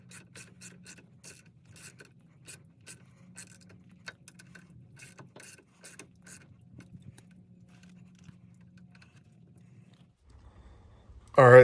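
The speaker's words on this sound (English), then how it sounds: "So let's go ahead and get these straps put on here." Ratchet straps click and clatter in quick uneven bursts while being cinched down to secure a Jeep WJ drive shaft, faint and close, with a steady low hum and a sharp bump at the end.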